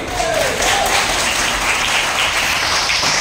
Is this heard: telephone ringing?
no